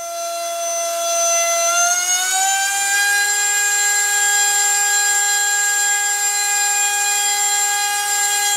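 SunnySky 2207 2100kv brushless motor on a 6s battery spinning up to roughly half throttle on a test stand, a clean whine that steps up in pitch and then holds steady and loud.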